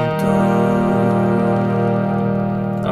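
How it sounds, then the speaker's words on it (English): A harmonium sounds a sustained chord, loud and close, its reedy tone held steadily and unbroken from start to finish with no voices. "I want to show you some harmonium chords so you can chant at home"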